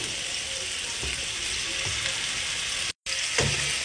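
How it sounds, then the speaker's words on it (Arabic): Kofta meatballs fry in a pan, giving a steady, close sizzle with a brief break and a few soft clinks or stirs. "اقلي الكفتة من هسا على مود بعدين اطب البيض"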